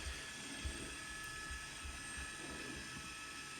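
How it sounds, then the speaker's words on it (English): Low, steady rotor thumping of a police helicopter droning overhead during a police chase, fairly faint and continuous with a constant background hum. "Again, a fleet of helicopters trying to find the suspect."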